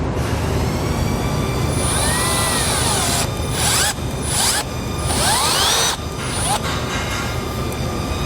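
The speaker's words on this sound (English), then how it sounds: "we're going to drill a 1/2-inch hole in it for our temperature sensor" A steady, loud mechanical whine with shifting pitch sweeps runs continuously as a drill bores a half-inch hole through plastic, with brief dips as the bit catches.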